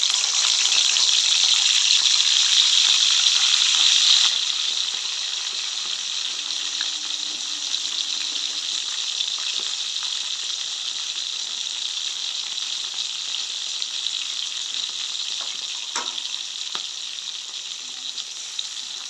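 Boonchi beans frying in boiling oil for a Jaffna-style boonchi curry, a steady loud hiss and sizzle that eases slightly after a few seconds and carries on evenly, with faint stirring taps and no talking.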